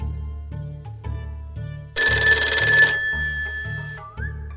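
A telephone rings with a bright, sustained electronic tone for about a second over a repeating low musical pattern, loud and close.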